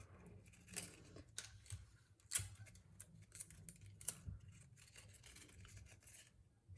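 Quiet, rustling crinkles and small tearing clicks as tape is pulled and pressed onto paper strips to join the loops of a paper chain, repeated irregularly at close range.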